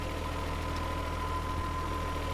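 A 1992 Nissan Skyline GTS-T engine idles steadily, a low, even mechanical hum with a faint rhythmic pulse and no voices.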